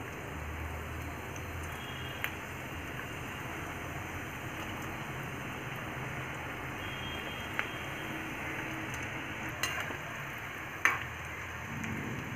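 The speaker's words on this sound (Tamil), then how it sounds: "வந்து எண்ணெய் காய வச்சு நம்ம வெட்டி வச்சுருந்த அந்த டைமண்ட் கட்ஸ் எல்லாம் போட்டுடலாம்" Wheat diamond cuts frying in hot oil, a dense, even, close crackling hiss throughout with a few sharp clicks and one louder knock near the end, no talking.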